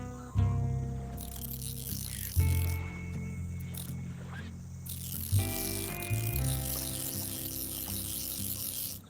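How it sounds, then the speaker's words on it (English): In a VR fishing video game, a reel handle is cranked with a repeated ratcheting, clicking mechanical sound in several bursts, layered over soft tonal game music, close and moderately quiet, with no talk. "Press the trigger with your free hand to crank the reel handle."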